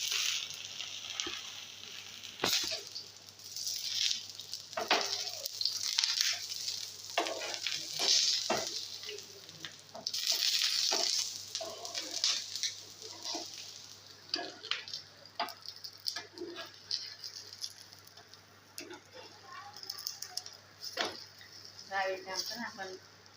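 Roti pizza with cheese frying in oil, a soft sizzle with intermittent stirring scrapes and clicks, while a person talks over it at times.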